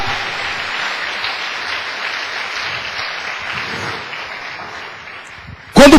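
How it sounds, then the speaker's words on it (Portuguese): Congregation applause during a Portuguese-language church sermon, a steady broadband clapping wash lasting several seconds before a loud burst at the end. "Quem entendeu isso, dá uma salva de palmas."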